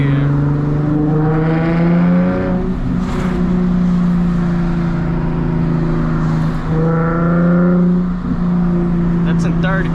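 A car engine revs hard and accelerates loudly in third gear, its steady harmonic drone rising through the gear from start to finish, recorded close from inside the moving car.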